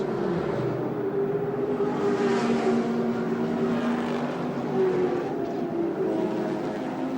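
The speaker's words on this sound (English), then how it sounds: "Peter Brock, an engine made out of beautiful steel and lovingly prepared over 5 weeks by his mechan" A race car in the 1981 Australian Endurance Championship round at Adelaide International Raceway roars steadily past, a loud sustained engine drone with rising and falling pitch, no voices over it.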